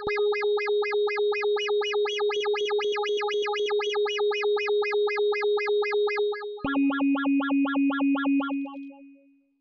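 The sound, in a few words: Waldorf Quantum 8 synthesizer wavetable modulation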